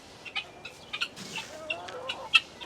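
Backyard chickens cluck and chirp in short, scattered bursts, several brief calls rising above a quiet background, fairly close and irregularly spaced.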